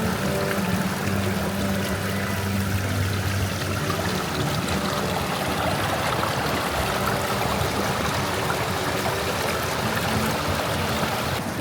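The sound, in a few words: mountain water flowing in a channel beside a road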